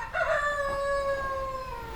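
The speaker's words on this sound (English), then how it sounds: "The rooster agrees." A rooster crows once, a long loud harmonic call that rises then holds and fades, close by with no talking.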